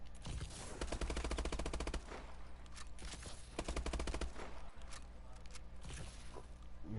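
Rapid bursts of assault rifle fire with a 32-round magazine in the shooter game AW, several sustained volleys of crisp repeated shots separated by brief pauses and a few footsteps, loud and close.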